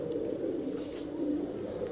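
Racing pigeons in a loft coo softly and continuously nearby, their low throaty murmurs overlapping in a steady rolling drone with a few faint higher chirps above it.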